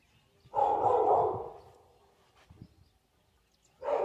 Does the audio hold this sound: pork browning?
no